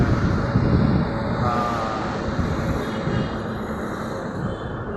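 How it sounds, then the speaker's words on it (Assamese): A loud continuous rumble of a train rolling past nearby, with a brief metallic squeal of wheels on the rails. "এতিয়া ট্ৰেইনখন গৈ আছে বৰ্তমান।"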